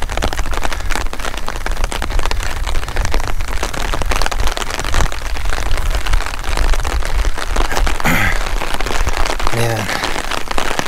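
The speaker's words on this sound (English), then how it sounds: "Gray, overcast, downpour." Dense, steady hiss of heavy rain pours continuously, loud and close, with a brief voice-like sound near the end.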